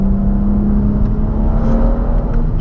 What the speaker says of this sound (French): le paf à l'échappement en boîte, c'est juste kiffant